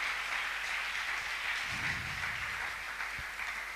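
A church congregation applauding, a steady wash of clapping throughout with no clear individual claps.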